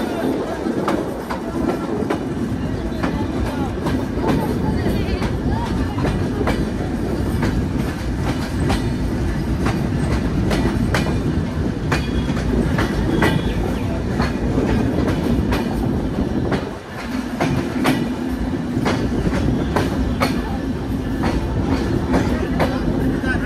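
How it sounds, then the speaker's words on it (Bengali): A passenger train pulls into Bheramara station, its wheels clattering steadily over the rails in a loud, continuous rumble with rhythmic clicks, dipping briefly near the end before the noise resumes. "আমাদের ট্রেন এসে পৌঁছালো হচ্ছে ভেড়ামারা স্টেশন"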